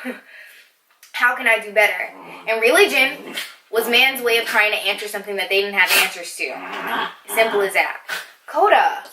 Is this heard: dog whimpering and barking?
yes